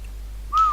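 One short whistled signal note begins abruptly and slides gently downward, heard over a steady low hum, with no talking.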